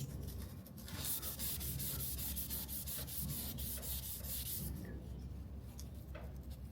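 Scuff pad rubbed on a paint paddle and pressed into a sharp corner of an OBS crew cab, making a steady, close abrasive scrubbing with quick repeated strokes that fades near the end.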